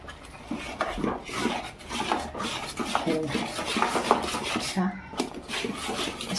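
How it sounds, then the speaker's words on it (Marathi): Semolina batter is stirred in a pot, with repeated close scraping and rasping strokes of a spoon against the metal, continuous and fairly loud. "गुटल्या नाही झाल्या पाहिजेत रव्याच्या ढवळून घ्यायचं आहे आपल्याला"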